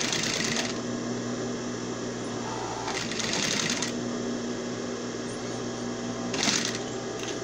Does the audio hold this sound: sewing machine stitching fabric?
yes